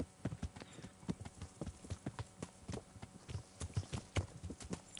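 Hooves of Captain Bernard's horse in the medieval game Kingdom Come: Deliverance clip-clop in a steady walking rhythm, close and crisp, with no talk over them.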